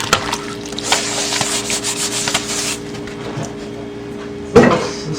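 Scrub Daddy sponge scrubbing a surface with steady close rubbing strokes for about three seconds, then quiet, ending in a brief sharp knock.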